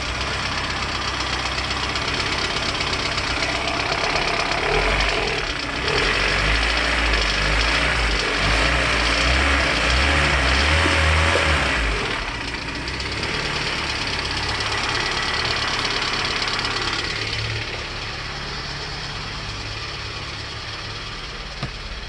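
A Honda Civic engine runs steadily after an engine swap, a loud, close idle with a slightly uneven, knocking rhythm that rises briefly in the middle before settling back, with no talking.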